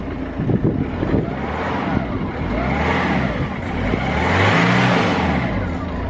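A stock exhaust on a Ford Fiesta Mk6 TDCi diesel revs several times at idle, a close, moderate drone rising and falling in a few swells, with no voices over it.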